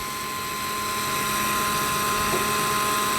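SEESII cordless caulking gun motor running, a steady high-pitched electric whine held close and continuous for a few seconds, with no talking.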